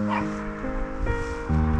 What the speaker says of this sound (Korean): 구름이는 저렇게 좀 짖긴 하는데 아마 오늘 저 좋은 경험이 될 겁니다